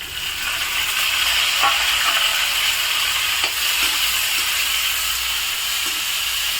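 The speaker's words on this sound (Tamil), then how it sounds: "இப்போ தக்காளியை வதக்கிட்டு தக்காளியை நல்லா சுருள வதக்கணும்" Tomatoes sauté in a pan with ginger, green chili and curry leaves for sundakkai rice, giving a steady, loud, close sizzle and hiss with occasional light stirring clicks and no voices.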